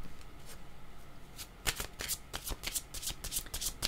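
Tarot cards being shuffled by hand before a card is drawn, a run of crisp riffling flutters and slaps, close and fairly quiet, quickening toward the end with no talking.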